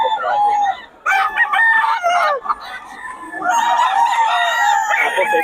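Roosters and stags at a gamefowl seller's yard crow and cluck close by in overlapping bursts, loud and busy, with someone talking faintly among the birds.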